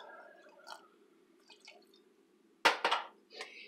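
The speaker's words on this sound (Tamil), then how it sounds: "இது வேகிற அளவு கொஞ்சம் தண்ணி ஊற்றிக்கலாம்." Water poured into a pan of butternut squash and tomato for chutney, a brief loud splashing burst near the end after quiet kitchen sounds.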